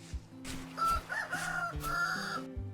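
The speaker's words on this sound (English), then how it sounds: "I heard a rooster" Rooster crowing in Vintage Story, a farming survival video game, a close drawn-out call with a couple of rising and falling cries over low background tones and soft clatter.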